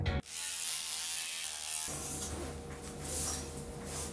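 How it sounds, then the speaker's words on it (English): An electric trimmer buzzes steadily up close while cutting hair, its motor tone shifting partway through as it moves against the hair, with no talking. "Well, that was not technically shaving, it was trimming."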